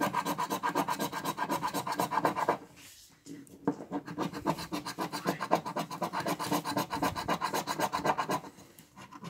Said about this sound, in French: Je peux faire les grattages.